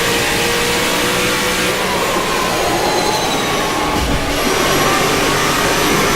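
A NASCAR car engine in the racing game rFactor 2 holds a steady, loud drone that seems stuck at high revs and never climbs further, with a brief dip midway before it carries on.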